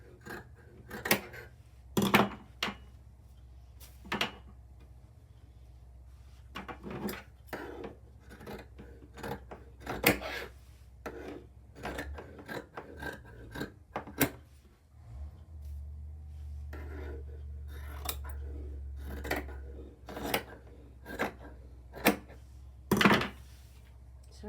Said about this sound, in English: Sorry about the noise of the scissors, I didn't realise they were so loud.